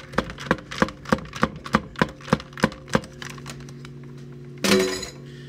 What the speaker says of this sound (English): You stir it with what you got.